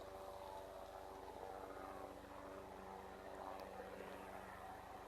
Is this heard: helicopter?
yes